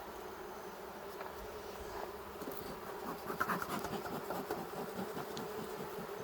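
Honeybees buzz around an open insulated beehive, a close, dense drone with a continuous low hum, soft scratching and rubbing against the frames, and a few louder passes near the microphone.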